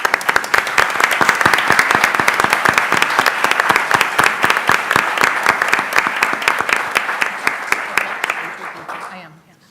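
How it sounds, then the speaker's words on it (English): Applause at an annual town meeting, a crowd clapping in a dense, rhythmic rattle of hands, loud and steady for several seconds before tapering off quickly at the end. "So if we could have a round of applause for"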